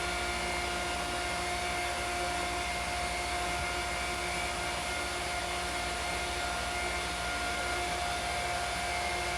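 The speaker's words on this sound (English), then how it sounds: "that sump pump is working way too hard" A sump pump strains hard while draining an Endless pool, giving a steady, loud motorized whine and hum with constant tonal bands and broadband rush that never lets up.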